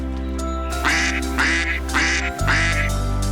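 A mallard duck quacks four times in a steady rhythm, loud and close, over a constant low hum.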